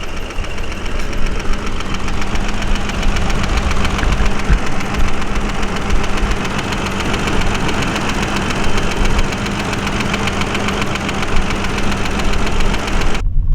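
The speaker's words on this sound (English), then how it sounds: "Gotta love all that valve noise, eh?" An old BMW car engine idles steadily and loudly, with a fast, even ticking of valve noise riding over the low mechanical hum.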